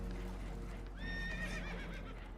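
A horse whinnies with a rising, wavering call over steady rumbling water and creaking boat noise in the Red Dead Redemption 2 video game, with faint voices beneath.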